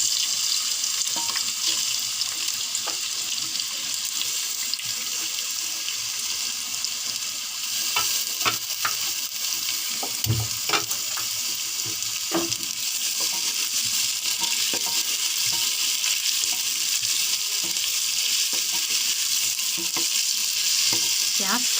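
Onions frying in a pan for green chilli keema, a loud, steady sizzle with occasional stirring scrapes and clicks close up, with no talking.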